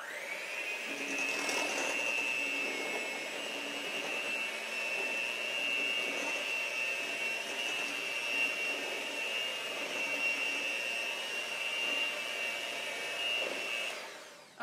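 A hand mixer whirs steadily through pumpkin spice bread batter, a constant high motor whine that runs unbroken for the whole stretch, close and fairly loud, then cuts off at the end.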